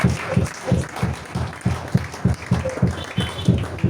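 A church congregation claps in a steady, rhythmic beat of about two claps per second, loud and close, with a faint murmur of voices underneath.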